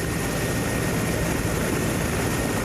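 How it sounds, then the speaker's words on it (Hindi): A rescue helicopter sets down near snow-covered mountains by the Rohtang Pass, its rotor and engine roar loud and steady throughout with no voices. "मुश्किल हालात के बावजूद उन्हें निकालने के लिए हेलीकॉप्टर को वहां उतारा गया"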